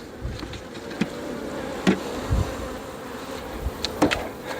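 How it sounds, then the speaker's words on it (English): Calm honeybees buzz steadily around their hive, a close, continuous drone broken by several soft thumps and bumps scattered through it. "These are pretty calm bees."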